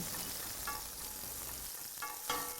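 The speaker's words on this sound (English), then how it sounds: "sizzle those in the pan" Patty pan squash frying in a pan, a dense, steady crackling sizzle up close, with a few brief stirring scrapes, and no voices.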